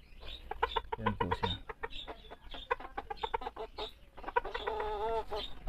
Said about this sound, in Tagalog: So ito po yung hen ko mga kabakyard na naked neck.